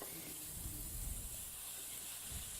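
Vegan stuffing for a tofu turkey loaf sautés in a pan with a soft, steady hiss and faint sizzle, quiet and continuous without talking.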